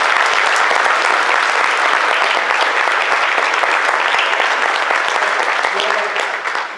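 Warm, sustained applause from a crowd at a benefit dinner, dense clapping at an even level that begins to fade in the final second.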